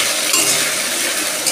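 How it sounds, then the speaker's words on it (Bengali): Potato pieces fry in a pan of oil with a loud, close, steady sizzle over a brief stretch. "প্রথমে আলুটাকে ভেজে নিই।"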